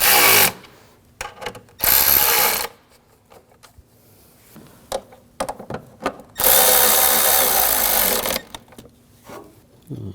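A power tool drives bolts tight on the 3.0L inline-six engine of a 2007-2013 BMW 328i, with two long loud whirring runs and one short burst, between scattered clicks and handling knocks, close up.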